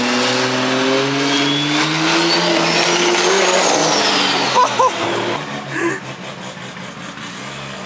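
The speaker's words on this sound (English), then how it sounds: "It sounds like a rotary for some reason." A Toyota Supra's engine revs hard and climbs in pitch with a smooth, buzzy, rotary-like wail, loud and near, then drops off with a few sharp clicks and chirps as it fades.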